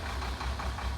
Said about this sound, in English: I love the sound of a diesel, man.